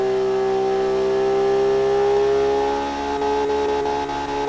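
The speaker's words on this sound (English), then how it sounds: "Should we see what happens if I rev to the end?" A simulated engine in an engine designer video game holds a high, strained rev near redline, a steady loud tonal whine with a slight dip and flutter toward the end.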